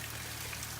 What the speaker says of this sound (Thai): ฝนตกหลายวันแล้วนะคะพายุเข้า